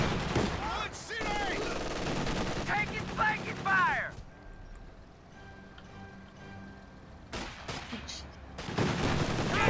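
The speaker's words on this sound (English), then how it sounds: "Warning. Contact! Heavy machine gun!" Heavy machine gun fire in Company of Heroes 2, loud rapid bursts over in-game voice callouts, dropping away briefly mid-clip before the rattling gunfire returns strongly.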